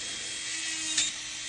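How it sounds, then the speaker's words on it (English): A quiet, steady electric nail drill whir runs throughout, with a brief sharper grinding burst near the middle as the bit files a hard gel nail. "If you keep that drill bit moving,"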